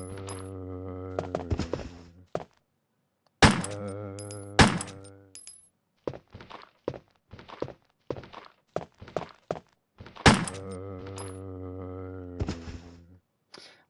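A zombie is attacked in the 1997 Director's Cut of Resident Evil: sharp thudding hits land at irregular intervals, mixed with low harmonic groaning bursts and brief gaps of silence between them.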